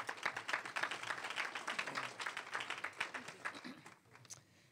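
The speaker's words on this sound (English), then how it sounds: "Let's give her a round of applause." Audience applause breaks out at a National League of Cities conference breakfast, dense clapping that stays fairly even and fairly distant, then thins and tapers off toward the end.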